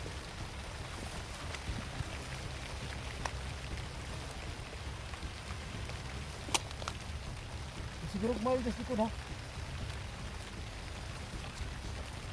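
Rain falls steadily at night outdoors, a soft continuous patter on surfaces that holds throughout, while a voice speaks briefly in the middle.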